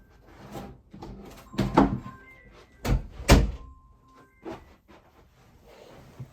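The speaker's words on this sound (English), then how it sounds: "I'll close this door." An interior door is shut amid a series of knocks, thuds and rattles, with two sharp, loud bangs near the middle standing out from softer handling noises around them.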